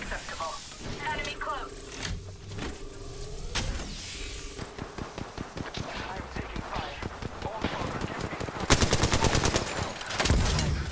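Gunfire in the video game Apex Legends: rapid rhythmic bursts of shots mixed with game effects and voice lines, growing louder toward a heavy final volley.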